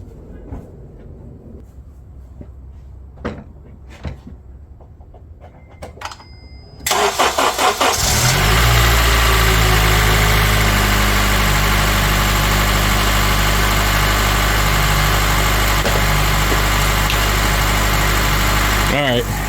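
Honda Element car engine cranking briefly after some quiet clicks, then catching and running at a steady, loud idle for over ten seconds.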